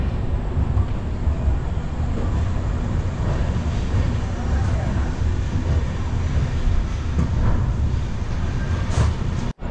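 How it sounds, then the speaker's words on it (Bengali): The 13159 Kolkata Jogbani Express pulls out of Bardhaman station at night in the rain, its steady, loud rumble heard from inside the coach and continuing without a break. "থেকে ছেড়ে দিল আমাদের ট্রেন।"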